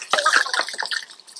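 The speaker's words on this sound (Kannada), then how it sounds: "ಈಗ ಇದರಲ್ಲಿ ನೀರು ಹಾಕೊಂಡು ಈಗ ಮಿಕ್ಸ್ ಮಾಡ್ತಾ ಇದ್ದಾರೆ" Water splashes and gurgles as it is poured into Karnataka-style avarekalu sambar and stirred, a brief, close burst of sloshing liquid.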